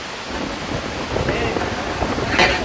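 Steady rain falls outdoors in a village cooking setting, a dense, even hiss of drops spread across the whole clip with no clear speech.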